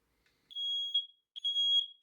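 A smoke alarm powered by a 9V USB rechargeable battery gives two short, piercing high-pitched beeps, close and loud, separated by a brief silence.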